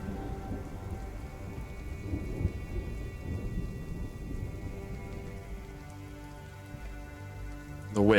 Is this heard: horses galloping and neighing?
no